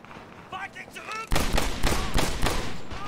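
Rapid automatic gunfire in the video game Medal of Honor Airborne: a dense burst of loud, cracking shots that begins abruptly after a short stretch of game sound with faint chirps.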